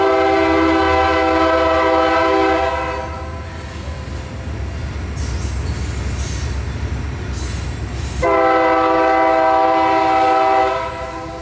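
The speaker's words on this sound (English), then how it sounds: "Looks like the work train came back for the summer." A Union Pacific work train passing northbound in Springfield, Illinois, its loud horn blaring in two long blasts at the start and end with rumbling wheels and railcar noise between them, up close and with no talk.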